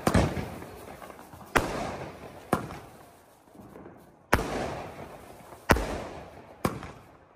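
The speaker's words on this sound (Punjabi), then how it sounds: "ਛੀ ਵਾਲਾ ਬੰਬ ਹੈ ਇਹ" Diwali firecracker bombs burst one after another, six loud sharp bangs spaced a second or so apart, each followed by a short rumbling decay, close by and outdoors with no talking.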